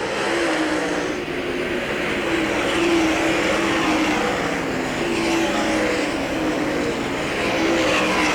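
Sprint-type race cars roar around the dirt oval at Hagerstown Speedway, a continuous loud engine drone with rising and falling passes as the leading pack comes by at halfway, steady and close throughout.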